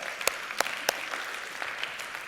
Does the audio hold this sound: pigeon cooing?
no